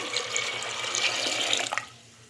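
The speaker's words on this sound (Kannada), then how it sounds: "ಕಾಳು ಮುಳುಗೋ ಅಷ್ಟು ನೀರು ಹಾಕೋಣ" Water pours over soaked cowpeas in a pressure cooker, a steady close splashing gush lasting about two seconds before cutting off.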